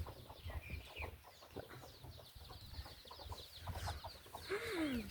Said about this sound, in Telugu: మా దగ్గరికి చిన్న కోడి పిల్లలు